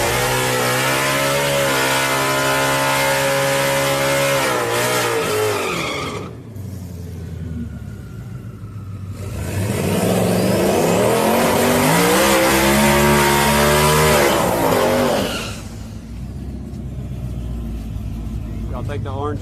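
Two Mustangs, one naturally aspirated and one twin turbo, drag racing at night: loud engines roaring and revving with tire squeal, a brief drop between runs, then a second hard pass, under excited chatter.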